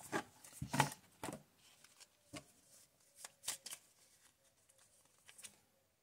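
A deck of oracle cards (Oracle des Miroirs) is shuffled by hand, giving close, soft riffling and slapping bursts at an irregular pace with quiet pauses between.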